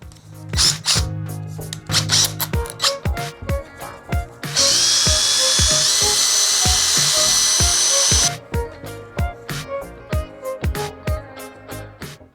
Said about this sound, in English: I'm gonna sand the dowel down just a tiny bit so that these can turn nice and easy.